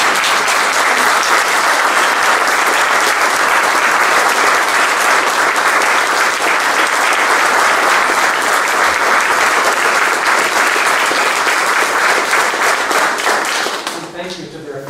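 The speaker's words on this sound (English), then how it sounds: "Could we have a brief round of applause for Graham?" Sustained round of applause from a crowd at a memorial ceremony for the Lost Takodians of the Second World War, dense loud clapping holding steady for about fourteen seconds before tapering off at the end.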